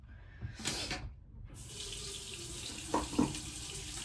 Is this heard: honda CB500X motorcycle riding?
no